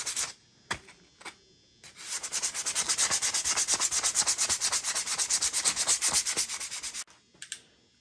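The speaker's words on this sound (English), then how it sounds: "I'm gonna scuff up these brake shoes here just to get some of the glazing off." Rapid rhythmic scuffing of brake shoes from a 1972 Yamaha DT-2 Enduro motorcycle, sanded to remove glazing, in a close, steady burst of strokes framed by a few isolated scrapes.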